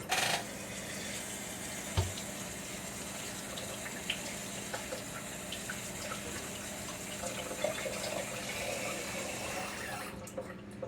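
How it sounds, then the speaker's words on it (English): Water runs steadily from a kitchen tap as vegetables are rinsed, a soft continuous splashing with a few faint knocks, fairly quiet and alone. "let me get these rinsed off right quick"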